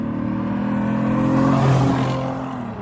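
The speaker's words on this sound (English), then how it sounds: "here's how it sounds when you rev it" A Lexus IS250 with an Invidia Q300 exhaust revs up, a steady low rumble that rises and swells in the middle before easing off, loud and close.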